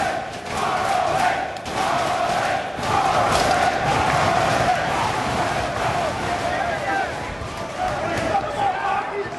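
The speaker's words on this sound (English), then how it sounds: "Standing room only crowd here in Providence is loving Mark Briscoe" A standing-room-only crowd at a Ring of Honor wrestling show in Providence roars and cheers steadily through the whole stretch, with surges of shouting and a commentator talking over the noise.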